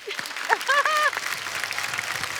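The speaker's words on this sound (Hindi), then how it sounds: "इसके लिए एक बार जोरदार ताली हो जाए।" A studio audience at a televised comedy show breaks into broad applause, steady crowd clapping throughout, with a brief voice heard over it near the start.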